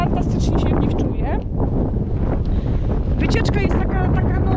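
Strong mountain wind buffets the microphone in a loud, continuous low roar, with a voice faintly audible underneath.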